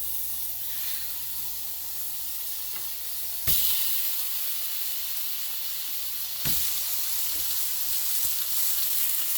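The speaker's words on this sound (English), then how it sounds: "Let's go ahead and get these steaks through on there." Steaks searing in a cast iron pan on a stovetop, a steady close sizzle and hiss with two sharp louder bursts as the meat goes down.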